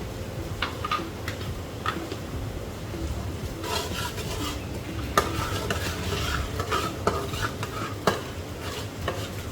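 Sugar sizzles in hot oil while a spoon stirs and scrapes the pan, with occasional sharp clicks, during cooking of a sweet-sour koi fish bhuna. The sound is steady and moderately quiet throughout.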